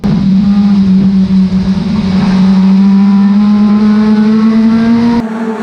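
A stock car races at Cowdenbeath Racewall, its engine loud and close with a steady high drone that climbs slowly in pitch, then cuts off abruptly near the end.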